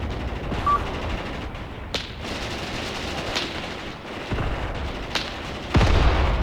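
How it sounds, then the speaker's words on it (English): 5cm mortars shell an enemy column in the war game Graviteam Tactics, producing several sharp booms and cracks spaced a second or so apart over a rumbling battlefield background. "one of my 5cm mortars is getting involved. It's shelling the enemy column."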